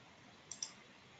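Two quick computer mouse clicks, a fraction of a second apart, sound faint and close against a quiet background hiss.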